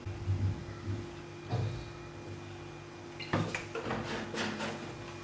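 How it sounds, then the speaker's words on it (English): A wok is set down on a gas stove: soft metallic bumps and clatter of cookware close by, then a brighter cluster of clanks and rattles, all fairly quiet with no talk. "Gas, place a wok."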